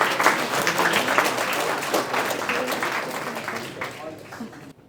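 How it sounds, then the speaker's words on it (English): Audience applause at a youth AI hackathon, a dense wash of clapping that holds steady for several seconds and then thins and tapers off toward the end. "round of applause for..."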